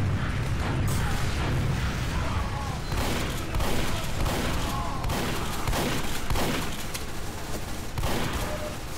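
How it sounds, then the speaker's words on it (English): A scout fires a pistol in Team Fortress 2 as repeated sharp shots crack through a dense, noisy battle, with other gunfire and explosions mixed in. "He's just getting us with a pistol."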